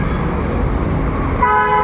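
Busy road traffic rumbles steadily close by, and a car horn sounds a sustained steady toot near the end, with no talk over it.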